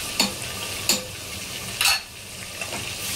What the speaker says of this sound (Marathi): कांदा आणि टोमॅटो जरा लालसर होऊन द्यायचा आहे